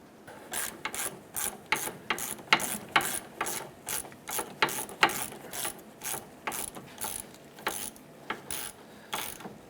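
Ratchet wrench threading a bolt into the engine mount of a 1994-2004 Chevy S10: a rapid series of close, crisp clicking strokes in an irregular rhythm, fairly quiet and without talk.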